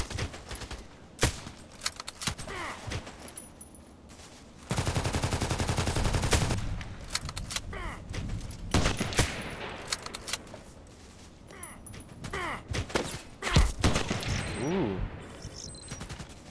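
Weapon fire in a shooter game: sharp gunshots and rapid automatic bursts, one long sustained burst in the middle, loud and close, with a brief exclamation from a voice.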